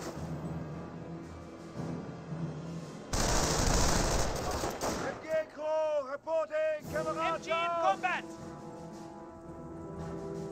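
Video game gunfire in Company of Heroes 1, Wehrmacht versus US forces, with a sharp burst of loud automatic fire in the middle among softer battlefield clatter, while a voice talks over parts of it.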